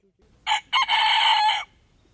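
A rooster crows nearby in a park in Khmelnytskyi, loud and clear: a short opening note, a brief pause, then a long drawn-out call lasting about a second.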